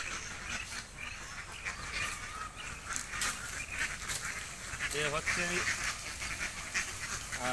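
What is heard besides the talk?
flock of ducks quacking near a pond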